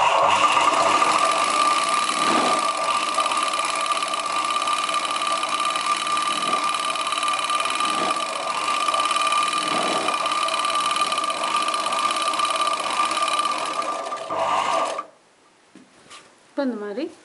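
A regular household sewing machine hums steadily during machine embroidery on a chudidar neck design with mirror work. It runs continuously up close for about fifteen seconds, then stops, leaving brief quieter handling sounds.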